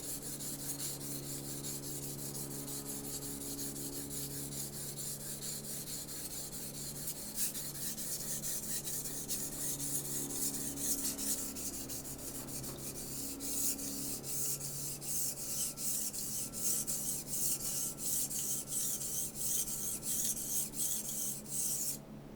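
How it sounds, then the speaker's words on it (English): An old Wusthof kitchen knife is drawn steadily across a budget 400-grit whetstone, giving a continuous close rasping, rubbing scrape that keeps an even rhythm throughout with no voices. "Just going to hop right into the sharpening, and then we will strop on the stone."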